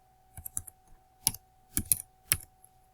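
A computer keyboard typed during a web development coding lesson: several short, quiet bursts of keystrokes, spaced irregularly over a faint steady hum.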